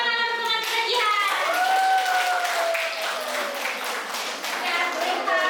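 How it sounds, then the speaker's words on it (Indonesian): Primary school children in a classroom clap for a classmate, a steady patter of many small hands while an adult voice speaks over it and children's voices rise through the clapping. "Beri tepuk tangan untuk teman kita Jihan."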